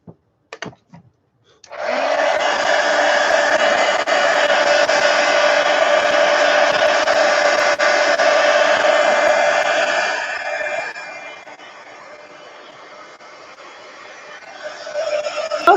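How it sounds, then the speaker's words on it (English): A heat gun drying a mixed media altered book page comes on with a loud, steady whirring blow that runs about eight seconds, then drops to a softer hum before the blower rises again. "Heat gun."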